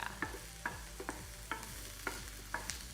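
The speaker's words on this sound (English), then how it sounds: "So we've added our mushrooms. Go ahead and give that a good stir." Mushrooms sizzling in a pan as a spoon stirs them, sharp scrapes and knocks recurring every half second or so over a soft continuous fry, close and alone without talk.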